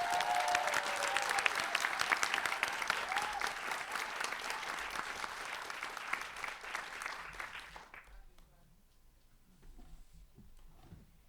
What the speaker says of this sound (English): Please give a warm welcome, a warm round of applause to Meals for NYC as they come up to the stage